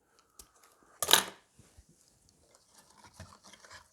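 Scissors cut through an evergreen branch while a vintage Christmas centrepiece is trimmed: a single sharp, rasping snip stands out clearly, followed by faint rustling and handling noises.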